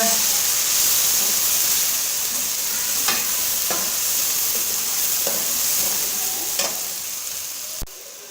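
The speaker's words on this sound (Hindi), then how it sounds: "लाल मिर्च के बाद हम इसके अंदर लहसुन और अदरक का पेस्ट ऐड करेंगे और मिक्स करेंगे अच्छे तरीके से" Red chili frying with garlic and ginger paste in a pan for matar keema, giving a continuous loud sizzle with intermittent stirring clicks, close up and with no talk.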